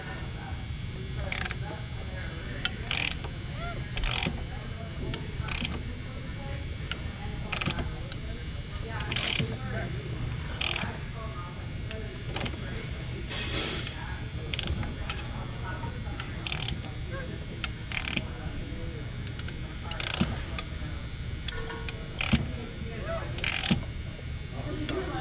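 A Honda/Acura V6 engine with a timing belt fault turned clockwise by hand with a ratchet: a steady series of sharp clicks at regular intervals over low rumbling background noise, with talking throughout.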